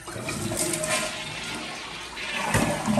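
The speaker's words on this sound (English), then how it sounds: "Perfect, nice strong flush." A toilet with a side-mount lever handle flushes strongly, a steady loud rush of water that keeps going throughout, surging again near the end.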